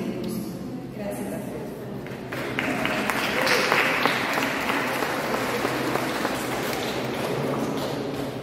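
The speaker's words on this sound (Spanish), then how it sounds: "Le doy el aplauso a Sarcesi" A crowd applauds, the clapping swelling partway through and continuing steadily to the end.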